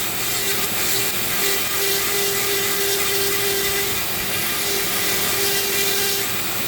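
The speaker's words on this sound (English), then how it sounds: "Press a little bit and you'll see how those little notches on the burr will dig." A Dremel rotary tool with a burr bit carves into wood, a steady high-pitched whine with grinding texture running continuously and close up throughout.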